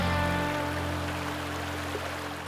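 Water flows and trickles steadily across Yarunga Creek at a bikepacking crossing, a continuous close rushing wash with no voices.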